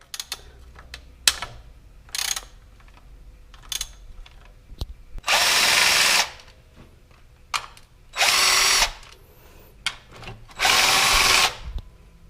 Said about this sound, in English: Again, I'm using 10mm socket.